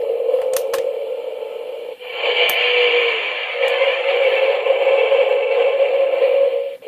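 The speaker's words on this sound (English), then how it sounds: "Sort of TARDIS-y noise there." An electronic Doctor Who TARDIS console playset toy hums with a steady mid-pitched whir, rising into a brighter swelling whoosh partway through, with a few clicks and clacks near the start.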